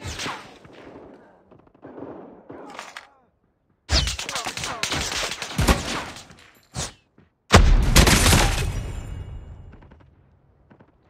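Call of Duty Mobile gameplay with XPR-50 sniper fire: loud sharp shots break out in bursts separated by near silence, with long booming decays and a faint in-game voice in places.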